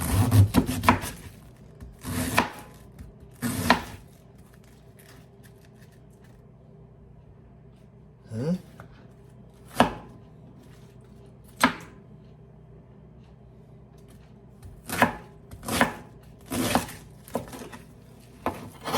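Knife work on cabbage and salted cod, with about a dozen separate cuts and scrapes against a wooden board, sharp close strokes spaced irregularly with quiet gaps between.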